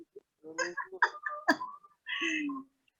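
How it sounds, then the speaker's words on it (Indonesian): Chickens and birds call in the background of an outdoor rural setting, with a few short clucks and chirps followed by a longer, sustained call, moderately loud and alone without speech. "Suara ayam sama burung, Bu."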